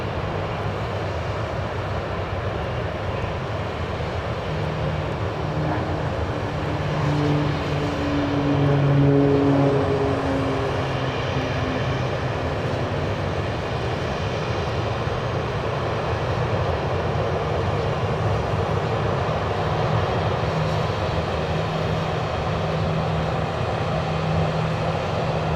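Airliner engines at Dallas Love Field roar steadily in the distance, a broad continuous rumble that swells briefly mid-way as a plane passes, with no voices.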